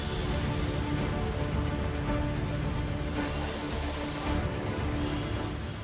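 Heavy monsoon rain pours down in Mumbai, a dense, steady broadband hiss of rain falling on surfaces, loud and continuous throughout with no speech over it.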